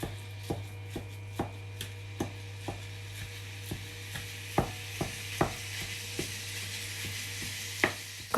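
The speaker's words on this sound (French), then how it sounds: "Dans une poêle, je vais mettre un petit filet d'huile d'olive. Et je vais faire revenir la viande hachée." Minced meat cooks in olive oil in a pan, a soft steady sizzle under a low hum, punctuated by regular sharp taps of a utensil breaking up the meat, close, no talk.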